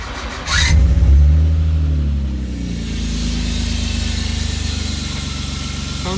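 A race car fitted with double mufflers cranks and fires, roars through a loud rev, then settles into a steady, throbbing idle close by, with no voices.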